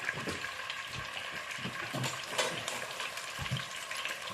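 Tuna fried rice stir-fried quickly in a pot, giving a steady soft sizzle with scraping and stirring knocks from a utensil against the pot, fairly quiet and heard on its own.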